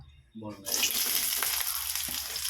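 Sliced onion and crushed garlic drop into hot oil in a pan for an egg, cabbage and capsicum stir-fry, a brief low murmur giving way to a sudden bright, close, steady crackling sizzle.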